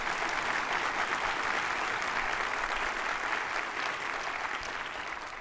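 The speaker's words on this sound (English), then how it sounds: "many others were applauding that" An audience applauds steadily at an opening-remarks event, a dense, even wash of many hands clapping that fades slightly toward the end.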